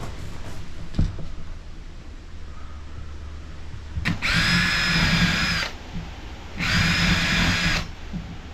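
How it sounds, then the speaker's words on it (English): A power drill drives 30mm screws into a wooden panel during a VW Crafter van bulkhead build, two sustained whirring bursts of a few seconds each, loud and close, after a quieter stretch. "this piece is now going to be glued and screwed"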